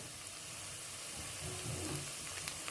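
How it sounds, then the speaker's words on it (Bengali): Winter vegetable pakoras fry in oil over a low flame, giving a steady, even sizzle with faint bubbling that holds at a constant moderate level throughout. "লো ফ্লেমে ভাজতে হবে"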